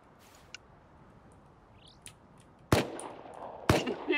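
Two loud, sharp gunshots in a video game ring out about a second apart, each with a bright crack and short ringing tail over a quiet hiss, with a few faint clicks before them.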